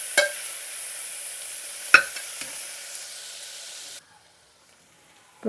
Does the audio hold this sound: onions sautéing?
yes